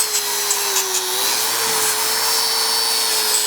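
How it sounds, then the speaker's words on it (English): Steady, continuous high-pitched whine of a power grinder stripping paint from sheet metal before welding, loud and close with a constant tone and no talk over it. "So you might as well just grind it."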